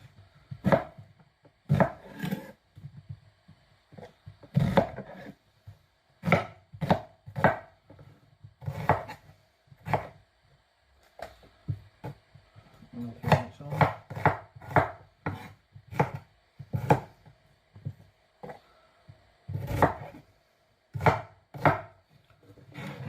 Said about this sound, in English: finely chop these. You just want them diced.